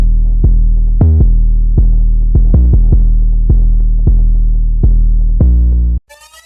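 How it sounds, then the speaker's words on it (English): A simple 808 bass pattern carries a hip-hop beat, with deep, loud booming hits in an uneven rhythm of about a dozen notes, each decaying slowly, before cutting off. "Lastly, I made this simple 808 pattern that just carries the rest of the beat."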